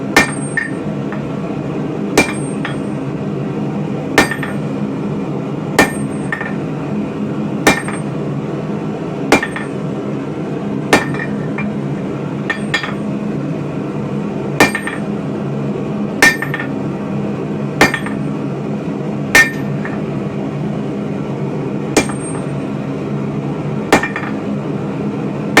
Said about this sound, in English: So this is my 4-pound hammer. That's my 12-pound hammer.